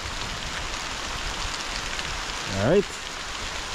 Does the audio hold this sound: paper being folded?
no